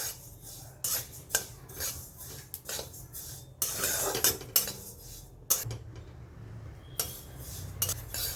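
Sesame seeds dry-roasting in a pan over low heat, stirred with a utensil in repeated scraping and rattling strokes, close and fairly soft, no talking.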